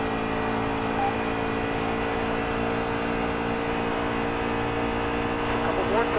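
A stock car engine from NASCAR Heat 3 drones steadily at a constant pitch as it laps the track. The tone is close and continuous, with a faint background hum and no clear passes.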